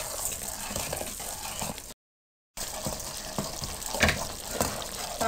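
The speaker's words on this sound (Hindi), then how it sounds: "चाशनी को पकाएं।" Sugar syrup for makhandi halwa cooks in a pan with a steady close bubbling sizzle and a soft stirring scrape, broken by a brief silent gap.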